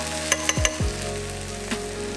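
Diced onions and black beans hitting a hot pan, giving a few quick clatters as they drop in and then a steady, close sizzle that carries on alone.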